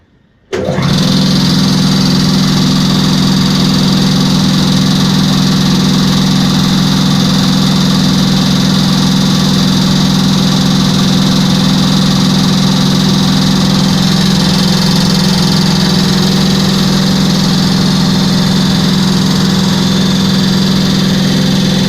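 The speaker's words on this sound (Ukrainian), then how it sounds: "Любомир, включайте третій компресор." An ABAC air compressor, just back from a major overhaul, kicks on after a brief silence and keeps running loud and steady with a constant motor drone and mechanical hum, no voices over it.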